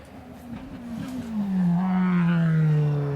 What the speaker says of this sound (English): So you can hear the BMW being worked hard.